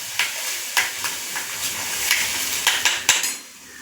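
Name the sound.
stirring paneer rajma masala frying in oil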